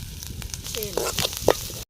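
Garlic cloves and green chillies frying in a pan of oil for a bottle gourd curry, a brief close sizzle with a few scraping stirs and crackles.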